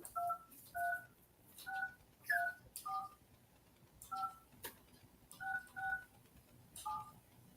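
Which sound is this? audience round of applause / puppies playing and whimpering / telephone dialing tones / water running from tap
telephone dialing tones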